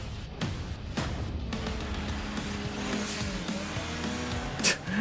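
A turbocharged car engine in a racing video game roars steadily and loudly throughout, with whooshing passes and a brief squeal toward the end.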